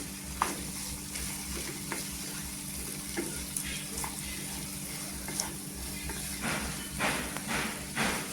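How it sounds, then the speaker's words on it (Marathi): Spiced potatoes are stirred in a hot pan with Kashmiri red chilli powder, Agri masala and garam masala, giving a steady sizzle with repeated soft scrapes and taps at close range. "मसाले मिक्स करायचे"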